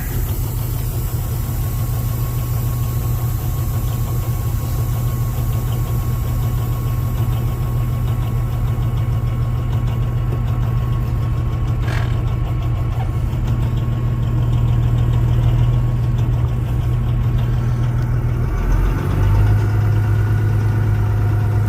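A Peterbilt 379 truck engine rumbles low and steady as it rolls slowly down the road, a loud close drone with a slight change in pitch near the end.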